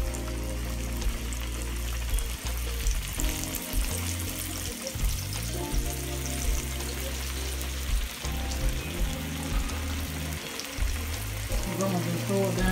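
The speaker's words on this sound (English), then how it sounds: "Grease popping everywhere." Fish frying in hot grease in a pan: steady loud sizzling and crackling with scattered pops, close up, with someone talking over it at times.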